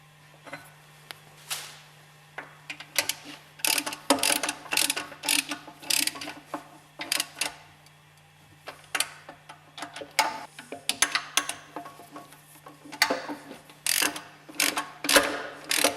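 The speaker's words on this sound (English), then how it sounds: "Bolt tight the spindle with the 3 hex head screws." Hex head screws being tightened to bolt down the spindle of a Westfalia OSD18 separator, likely with a ratchet: rapid clicking and metallic ratcheting bursts come in uneven runs over a low steady hum, close and moderately loud.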